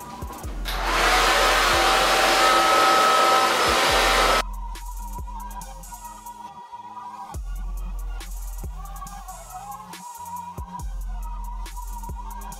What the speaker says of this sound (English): I'm actually going to take my blow dryer with my diffuser